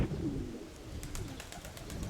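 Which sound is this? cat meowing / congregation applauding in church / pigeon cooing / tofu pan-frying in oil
pigeon cooing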